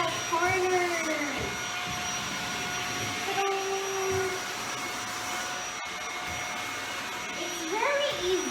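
A Shark Powered Lift-Away Rotator Speed upright vacuum runs with a steady, loud motor drone throughout, its pitch sweeping up and down as it cleans edges and corners, with a voice briefly heard over it.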